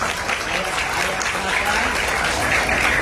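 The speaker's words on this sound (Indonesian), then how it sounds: "Ya, tepuk tangannya." Audience applause at an Islamic recitation gathering in Penjaringan, North Jakarta: dense, loud, steady clapping from a crowd filling the whole stretch without pause.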